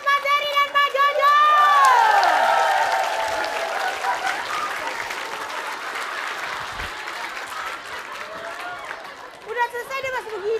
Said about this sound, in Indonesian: Dan kita kasih tepuk tangan juga untuk Pak Bolot, Pak Dery, dan Pak Jojo.